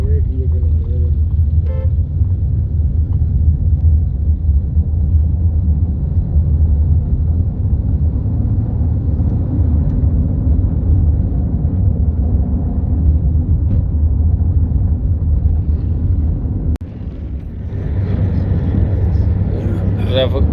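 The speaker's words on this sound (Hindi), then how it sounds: "ट्रैफिक बहुत इधर" Heavy road traffic rumbles steadily and loudly outside a marriage hall, a dense low roar of passing cars and vehicles that continues for the whole stretch, with a brief dip near the end and voices faintly under it.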